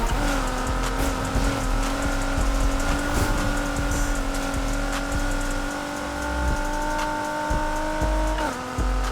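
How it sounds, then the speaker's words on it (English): Acura RSX in the Need for Speed Heat racing game, engine droning steadily at high revs as the handbrake throws it into a turn, with a drop in pitch near the end as the car downshifts. "we gotta hit that e-brake. Yeah, man. The e-brake is what makes this thing turn well."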